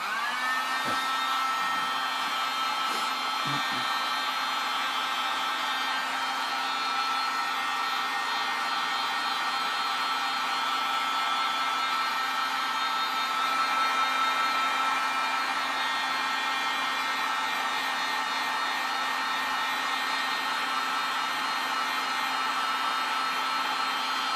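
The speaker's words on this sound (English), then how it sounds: "you're going to use a heat gun, and you're going to heat this area that's causing the obstruction." A heat gun warms the cowling area of a goalie skate boot, giving a steady, close, unbroken whirring hiss for the whole stretch.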